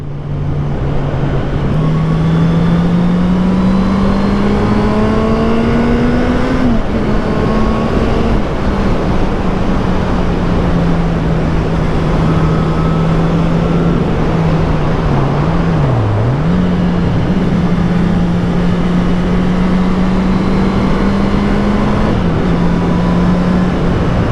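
A motorcycle, in a vlog about moving from 125cc to 650cc bikes, rides along a muddy road, its engine droning loudly and steadily for the whole stretch with small shifts in pitch and heavy wind rush, no talking.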